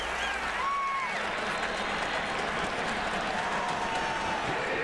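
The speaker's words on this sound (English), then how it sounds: "You can feel this crowd getting into the ball game" A football stadium crowd at a South Carolina versus Clemson game roars and applauds in a continuous dense wash of noise, with faint whistle-like tones rising through it.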